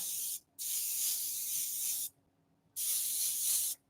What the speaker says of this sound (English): I didn't like how the white was spraying though.